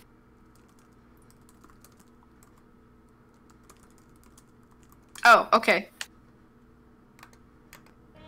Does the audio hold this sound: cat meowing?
no